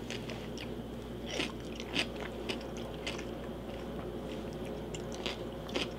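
Crisp bites and crunchy chewing of a pickle, close and moderately loud, repeating in irregular bursts over a steady low background hum.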